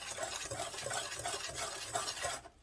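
Flour being whisked into a mix in a bowl: a steady, close, rhythmic scraping and swishing of the whisk throughout, stopping abruptly at the end, with no talking.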